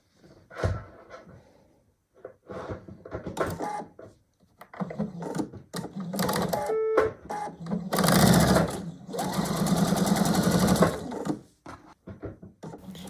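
A sewing machine chain-piecing fabric quilt patches one after another without cutting the thread, running in bursts of stitching separated by short pauses, then two longer steady runs near the end.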